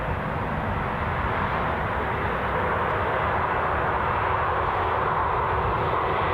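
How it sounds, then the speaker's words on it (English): A KLM airliner taxiing fast after arrival at Newcastle International Airport, its jet engines producing a loud, steady broadband roar that fills the whole stretch without letup. "let's have a quick look-see at our fast taxiing KLM arrival"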